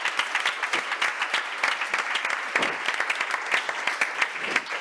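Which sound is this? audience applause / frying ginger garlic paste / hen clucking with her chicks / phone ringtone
audience applause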